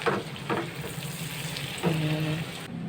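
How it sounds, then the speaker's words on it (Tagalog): Salted egg being stirred into melted butter in a hot pan for shrimp, with soft sizzling and frying throughout and a few louder scraping stir strokes near the start and end. "I-mix lang natin itong salted egg dito sa ating butter."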